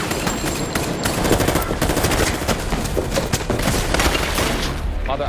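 Loud, continuous gunfire in an action film: dense, rapid machine-gun bursts and overlapping shots that fill the whole stretch without pause.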